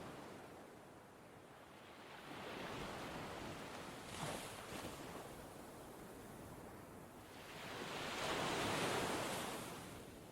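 Ocean waves wash onto a beach in slow, broad swells of hissing surf, rising and fading, with one larger wave building toward the end.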